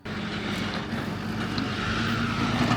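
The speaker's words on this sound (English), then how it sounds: "a red tow truck is just pulling in" A red tow truck pulls in at a roadside, its steady engine rumble and low drone continuous and fairly close throughout, with no talk.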